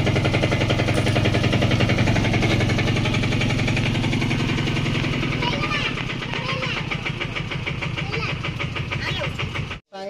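A newly bought motorbike's engine runs steadily at a loud, close idle after starting, with a dense rhythmic thrum that continues for about ten seconds before cutting off abruptly; people talk over it.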